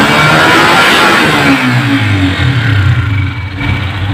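A Honda CG125 motorcycle engine revs up and then eases back after a misfire repair, its pitch rising and falling, loud and close with no voices.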